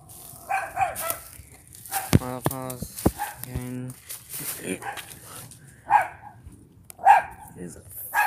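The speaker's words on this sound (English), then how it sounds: "It is a fucking dog." A dog barks in a short run of several harmonic barks near the middle, with people talking before and after it.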